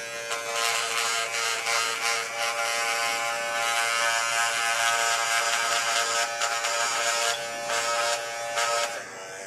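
An electric hair clipper with a short blade runs on its turbo setting, a loud close steady buzz with a bright whine that holds for about nine seconds, flickering slightly as it moves over the scalp, then cuts off.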